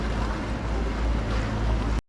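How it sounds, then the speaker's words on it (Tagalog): A boat motor rumbles low and steady over a canal in Venice, Italy, with wind noise, cutting off abruptly after about two seconds. "Ayan, sumakasakay sila sa bangka."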